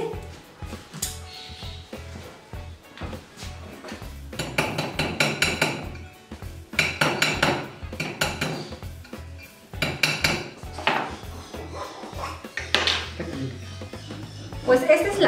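A freshly welded metal piece is knocked loose with repeated sharp metallic clanks and hammer strikes in uneven bursts, close and loud, while people talk nearby.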